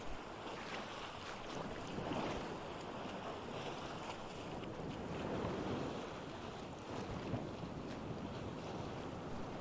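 Sea waves washing in the video game Survival: Fountain Of Youth, a soft, steady surf wash with wind-like hiss, gently swelling and easing, faint and uninterrupted.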